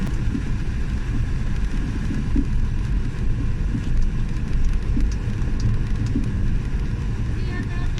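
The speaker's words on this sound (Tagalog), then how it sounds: "ang lakas na ulan dito" Dense, steady roar of heavy rain, loud and constant throughout, with a low rumble underneath and no pauses.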